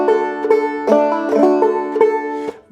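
Clawhammer banjo plays the Galax Lick as a brushstroke, giving a messy, brushy strumming pattern of repeated struck chords, close and bright, with no voices.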